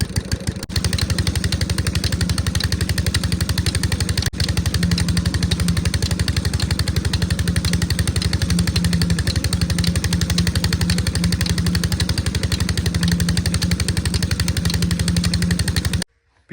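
A diesel Peter engine runs steadily at a farm field for about fifteen seconds, loud and close, with a rapid even thumping firing rhythm and a low drone, then cuts off abruptly at the end.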